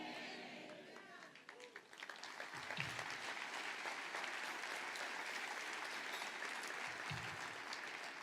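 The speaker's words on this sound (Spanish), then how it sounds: "Me alegro porque aplaudas, pero quisiera que lo creas." A congregation applauding during a church sermon: dense, sustained clapping that swells after the first couple of seconds and holds steady, filling the room without any speech over it.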